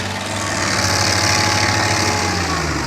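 A stump grinder works through a small tree stump during disaster clean-up, producing a loud, continuous engine drone with a steady grinding hum and no pauses, heard close with no talking.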